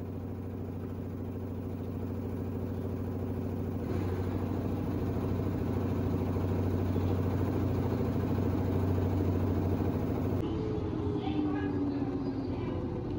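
A front-load washing machine motor hums and whirs steadily at speed, then winds down near the end as the drum brakes and slows, with faint background noise.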